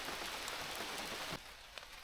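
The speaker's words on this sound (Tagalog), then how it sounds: "Umulan pa rin." Rain falls steadily at a campsite in Awenda Provincial Park, Canada, making a dense, hissing patter with scattered drops. The wash of rain grows quieter partway through.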